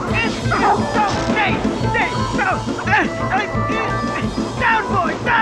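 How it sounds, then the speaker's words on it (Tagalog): A Doberman barks repeatedly with deep, loud woofs amid background commotion and people talking nearby. "Hindi, Doberman ho yun."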